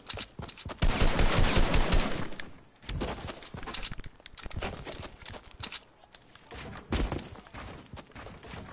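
SMG fire in a shooting video game, dense rapid bursts of automatic shots, loud and close, coming in several sustained volleys with brief pauses between them.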